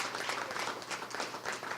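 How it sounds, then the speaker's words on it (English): A crowd applauds continuously, the clapping dense and steady throughout, fairly close. "Let's give everybody a round of applause for what we're doing here."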